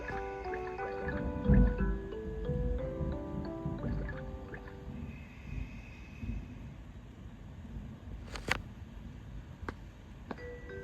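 A Baby Einstein Sea Dreams seahorse toy plays a soft melody of layered tones with gentle ocean sounds underneath, fading to a low watery wash with a few sharp clicks near the end.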